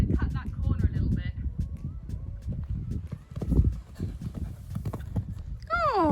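A horse's hooves clip-clop in a steady trotting rhythm during an at-home jumping exercise, close and clear, with a rider talking over the footfalls and a brief whinny near the end.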